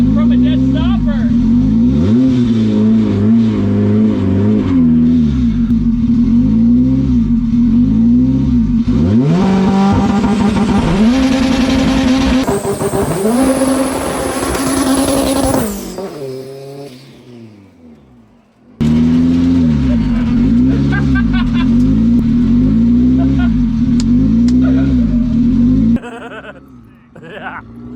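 K-swapped VW Beetle launching from a dead stop, loud engine revving hard with repeated wavering rises, a high scream, a pause, then another hard pull; voices talk over parts of it.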